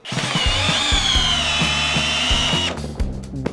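A Bosch GSB 18V-65 cordless drill in second gear drives a 200 mm screw into wood, a loud steady motor whine with grinding under the bit, ending in a few short clicking bursts.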